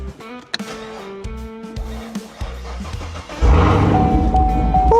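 A Chevrolet Camaro ZL1 with a weak battery starts after a few soft clicks and mechanical whirs, then the engine catches and settles into a loud, steady, deep idle close by.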